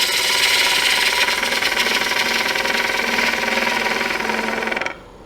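A chainsaw cuts across the end of a log being squared up for a woodturned lidded box, a loud, steady buzzing whine held for about five seconds before cutting off abruptly near the end.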